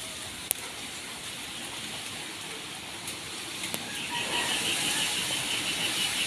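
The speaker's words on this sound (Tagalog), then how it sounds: "Pabugso-bugso ang ulan, mas malakas ang hangin." Gusty typhoon rain and strong wind make a steady broadband roar that swells louder in the second half, with a few sharp knocks and clatters, no talking.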